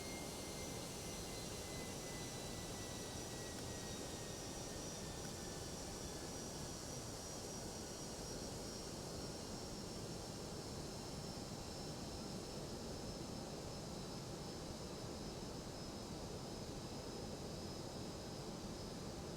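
Airbus A319 engines at idle thrust during an open descent in the X-Plane 12 flight simulator: a steady, even jet roar with a faint high whine that slowly falls in pitch, with no talk.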